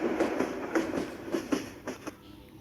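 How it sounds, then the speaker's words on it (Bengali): A Subarna Express train from the 30 series in Train Simulator Bangladesh rolls along with a steady rhythmic clickety-clack of wheels over rail joints under a low running rumble, moderately quiet and without talk. "এটা হচ্ছে 30 সিরিজের সুবর্ণ এক্সপ্রেস ট্রেন।"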